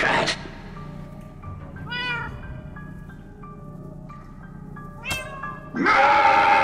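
A cat in the Minecraft Story Mode video game meows repeatedly in drawn-out, wavering cries over a game soundtrack, loud and close, ending in a burst of louder noise.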